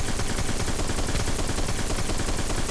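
The Hard Light exotic auto rifle from Destiny fires in one unbroken, rapid automatic burst, loud and close, a dense stream of shots with no pause.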